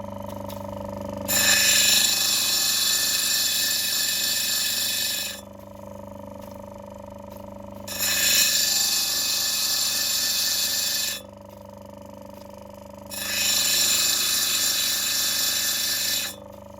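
A 120 grit wheel grinds potch off a yellow opal in three loud, high-pitched bursts of several seconds each. Quieter gaps in between carry only the low hum of the motor.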